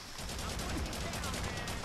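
Rapid automatic gunfire in the co-op shooter game Haze, with dense, loud repeated shots in a steady burst filling the moment.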